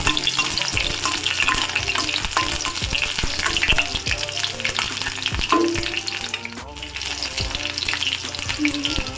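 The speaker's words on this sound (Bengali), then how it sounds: "এখন আমি এখানে পেঁয়াজ কলিগুলি দিয়ে দিব, দিয়ে একটু ভেজে নেব।" Spring onion bulbs frying in hot pure mustard oil, with a loud, dense sizzle and spatula scraping and stirring throughout, close up with no talking.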